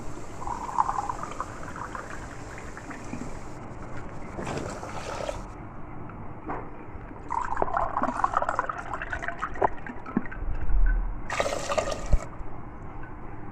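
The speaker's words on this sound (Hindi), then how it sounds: "अब और 2 कप पानी डालूंगी।" About two cups of very cold water are poured into a pot while making Kashmiri tea, giving splashing, gurgling pours in short bursts separated by quieter kitchen background.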